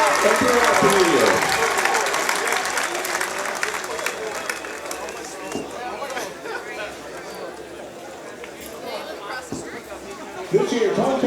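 A crowd applauds at a North Greenville football homecoming ceremony with steady, broad clapping that tapers off over several seconds. Chatter runs underneath, and a fresh burst of clapping follows near the end.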